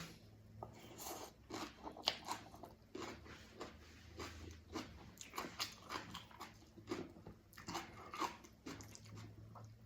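Crunchy biting and chewing of Lao vegetable soup with pork belly, close to the mic: a steady run of crisp crunches and wet mastication noises for several seconds, with no talking.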